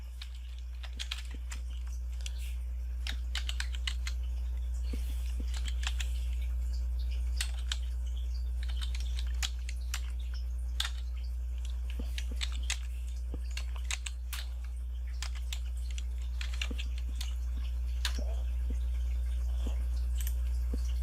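Steady typing on a computer keyboard, with quick clicking keystrokes over a low constant hum and no talking.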